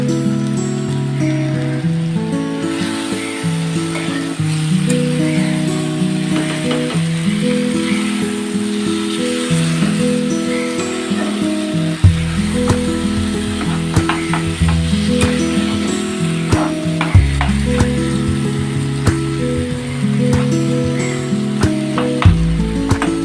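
Slit green chillies go into a hot frying pan of taro greens, and a steady, loud sizzle with rattly frying crackle runs throughout, alongside sustained tonal background sound.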